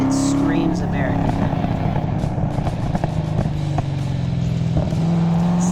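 An all-aluminum 7-liter LS7 V8 swapped into a Mazda RX-7 FD3S rumbles through a 3.5-inch titanium exhaust with a grapefruit-shooter tip, a steady loud drone with a slight rise in pitch, while someone talks over it.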